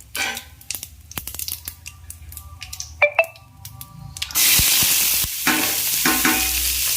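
Onions, chillies and ginger-garlic are tipped into hot oil for Mangalore-style country chicken sukka and stirred, a loud close sizzle that swells after scraping and clinking of the pan.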